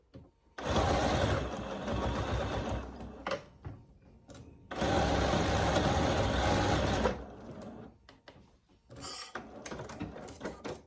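Home sewing machine stitching fabric for a ruffled pillow, running in two long steady bursts with a rattly whir that hints it needs oiling, then shorter stop-start stitching, close and moderately loud.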